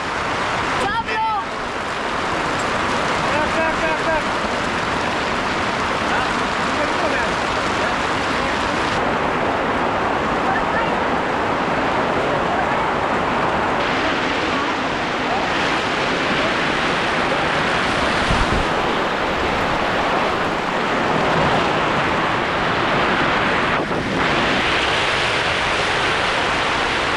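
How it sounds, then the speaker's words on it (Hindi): Heavy rain pours during a thunderstorm near the mountain summit of Shrikhand Mahadev, making a dense, continuous roar of rain and wind close around the listener, with voices faintly audible under it. "इतनी जोर से बारिश चालू हो गई यहाँ पर और हम सब फंस गए"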